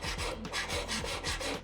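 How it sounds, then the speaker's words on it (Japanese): A coarse 150 mm steel file rasps against a metal ring in steady back-and-forth strokes, about five close, fairly quiet passes with no talking. "まずは、鉄鋼ヤスリ、インチヤスリの粗め 150mm を使ってヤスっていきます。"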